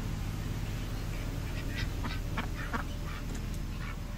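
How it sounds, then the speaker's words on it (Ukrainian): Ducks at a zoo quack in a scattered series of short calls over a steady outdoor background hum, moderately near, with no speech. "Так, тут також є знов качечки."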